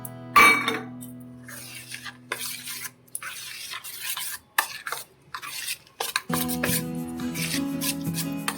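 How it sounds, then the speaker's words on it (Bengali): Oats and semolina batter with yogurt and water being stirred in a bowl, a spoon scraping and clinking against the sides in uneven bursts with short pauses between strokes. "এটা ভালো করে আমি ঘেটে নিচ্ছি, মিক্সড করে নিচ্ছি।"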